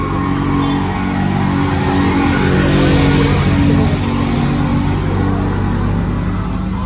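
A car rolls down a steep hill road on the way to Azhimala in Kerala, its engine a loud, steady low rumble close by with constant road noise.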